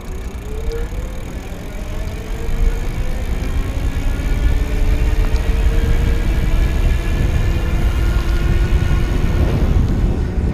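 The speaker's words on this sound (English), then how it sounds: "it seems like one of the quieter geared motors that I've tested" Electric Bike Outfitters Phantom kit geared hub motor driving a bicycle under trigger throttle, its rising whine climbing steadily as speed builds, with constant wind rush and road noise underneath, fairly loud and close throughout.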